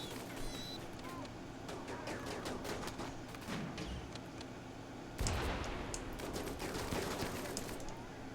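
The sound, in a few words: machine gun fire in the video game Rimworld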